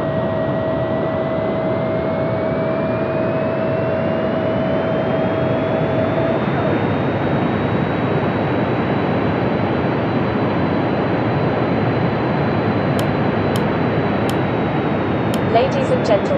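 A Boeing 737-200 in a flight simulator game on landing approach, a steady loud jet engine roar with a slowly rising whine throughout and a few faint clicks near the end.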